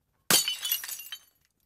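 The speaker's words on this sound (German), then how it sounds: "Und das erste ist tatsächlich eine Flasche, die kaputt geht." A glass bottle smashes in a single sharp burst of breaking and scattering shards, loud and close, ringing out for under a second before falling silent; it is a prepared sound effect for radio-play sound design.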